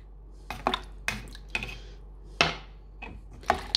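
Rhythmic clinks and scrapes of a utensil against a bowl while stirring fruit peels soaking in baking soda water, about seven separate knocks spread evenly, close and fairly quiet, with no talking.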